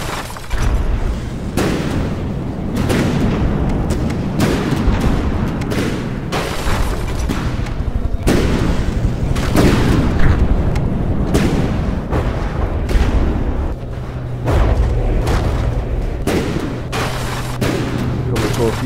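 Torpedo explosions boom through a submarine battle in a video game, a dense run of heavy, rumbling detonations and bursts that overlap continuously and stay loud throughout.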